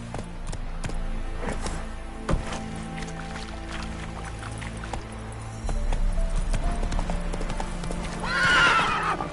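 A horse gallops in The Witcher 3, with steady clip-clop hoofbeats throughout, a brief whinny near the end, and faint game ambience underneath.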